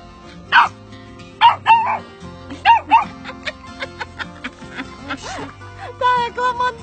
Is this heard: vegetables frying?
no